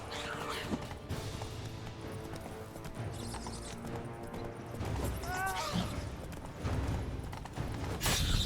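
Roach, the horse from The Witcher 3: Blood & Wine, clip-clops steadily at close range over a busy bed of game ambience, with a brief whinny rising midway and faint voices now and then.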